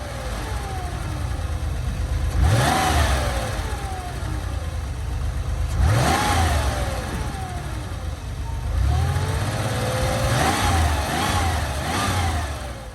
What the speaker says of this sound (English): let's see how the engine sounds with some revs given to it